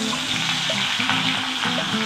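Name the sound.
fish frying in mustard oil in a wok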